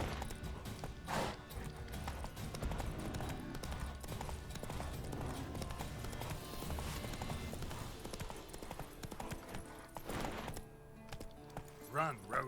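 Galloping hooves of Roach, the horse from The Witcher 3 video game, keep up a steady clip-clop rhythm throughout, mixed with game background sounds and a brief voice near the end.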